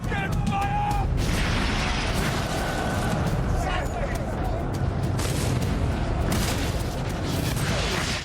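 Heavy cannon fire in the 1588 Armada naval battle as English ships close in, a dense, continuous roar of booms and blasts with sharp cracks scattered throughout, loud and sustained.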